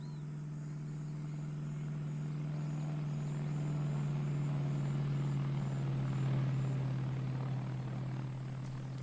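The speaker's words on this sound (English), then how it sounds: "Should hear a plane in a second." An aircraft in Arma 3 drones steadily overhead, a low sustained engine hum with a constant tone that swells slightly toward the middle, heard alone with no talk.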